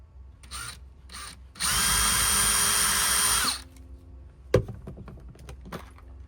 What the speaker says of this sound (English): Pre-drill through the siding.